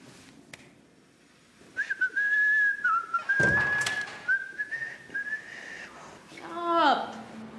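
A person whistles a wavering, sustained tune at close range, broken by a short noisy clatter midway, and ends with a few rising chirpy whistle notes.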